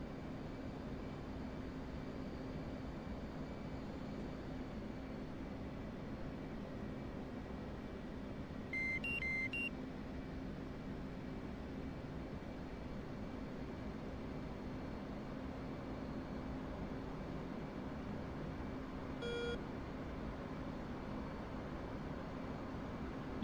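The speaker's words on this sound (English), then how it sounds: "You'll hear that there'll be like lots of beeping and things like that as well throughout this whole thing." Cockpit beeps from an F/A-18C in the DCS flight simulator sound out in two short bursts, a quick cluster of tones midway and a fainter one later, over a constant low jet engine drone.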